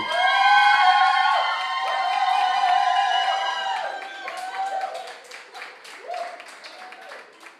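Audience at a public sector debate competition quarter-final breaks into loud, sustained clapping and cheering that swells at once, then thins into scattered claps and a few shouts near the end.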